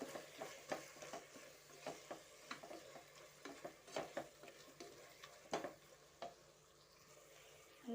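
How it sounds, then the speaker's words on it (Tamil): Mint and coriander sauté in a pan for chicken biryani, with a soft continuous sizzle punctuated by repeated scraping stir strokes and light clinks of a spoon against the pan, close and fairly quiet. "நல்லா புதினாவும் கொத்தமல்லி நல்லா வதங்கிடுச்சு பாருங்கள்."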